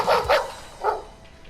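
A dog barks in a video game, two quick close barks followed by a third after a short pause, fairly loud and alone.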